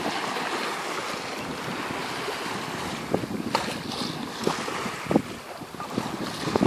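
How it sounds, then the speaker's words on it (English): Gentle water sloshes and laps against a boat's bow amid steady wind noise, with occasional soft splashes, and no voices, crossing Hawke Bay. "gentle waves against the bow"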